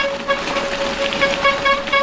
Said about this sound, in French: Sympa ce klaxon.